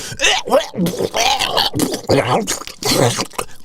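Close, wet vocal gurgling and choking bursts in quick uneven pulses, a voice imitating a throat being cut underwater.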